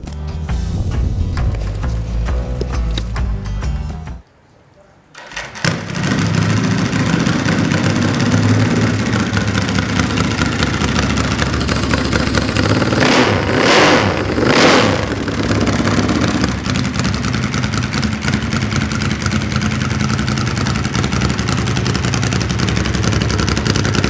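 A custom Ducati bobber motorcycle engine fires up after a brief silence, then runs loud and close with a steady throb. The revs rise noticeably in the middle before it settles back to a rough idle, with no talking.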